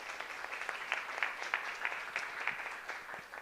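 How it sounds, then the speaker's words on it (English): Audience at a school board of education meeting giving a quick round of applause for a student team, scattered individual claps audible as distinct sharp hits, moderately quiet and slightly distant. "Quick round of applause for them."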